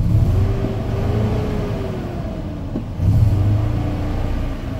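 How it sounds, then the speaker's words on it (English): A 2008 Ford F-350 utility bed truck engine revs up loudly and close by, with a low rumbling idle, rising pitch sweeps and a second surge of revving partway through, with no talking. "I'll rev it up again."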